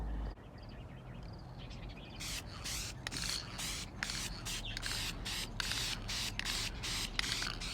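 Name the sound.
spray paint can spraying car door sills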